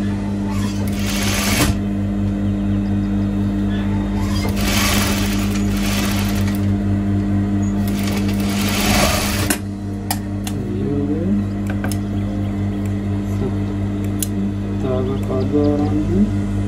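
Sewing machine stitching a front-open abaya, its steady motor hum running close and continuous throughout with brief pauses in the stitching rhythm.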